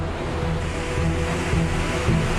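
Ocean waves and storm surge during a hurricane: a continuous, loud roar of surf with heavy wind noise and no voices.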